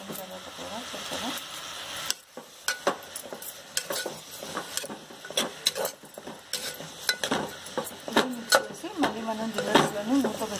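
Chicken curry being stirred in a pan, the spoon scraping and clinking in irregular strokes over a low sizzle, with someone talking throughout.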